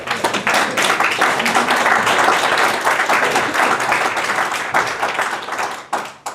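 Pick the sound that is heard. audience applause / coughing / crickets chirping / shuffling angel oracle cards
audience applause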